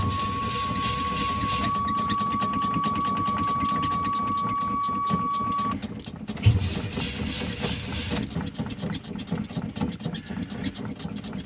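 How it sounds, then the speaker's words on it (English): A 1984 Chevrolet Silverado with a 305 engine and 350 turbo transmission cold-starting: a loud sustained whine and rumble, then a pause and a clunk before the engine settles into a rough, pulsing idle. "I'm starting this 1984 Chevrolet Silverado with a 305 350 turbo transmission"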